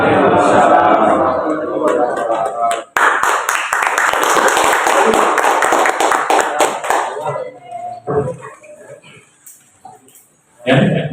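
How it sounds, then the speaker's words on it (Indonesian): A workshop audience claps after a presentation, loud, dense applause that rises abruptly, fades into scattered claps, then swells again briefly, with voices speaking over parts of it. "beri tepuk tangan lagi untuk Bapak Ibu yang telah memberikan materi yang luar biasa ya tentang di workshop ini"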